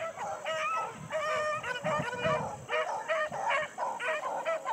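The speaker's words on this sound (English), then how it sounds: "There's big dogs." Big dogs barking in a quick, repeating series of loud, close woofs and yelps with short gaps between bursts and no talking.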